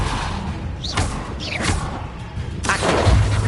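A Depulso force spell cast in the video game Hogwarts Legacy: a few loud, dull thuds and whooshing magical bursts, each near and punchy, with a heavier blast near the end.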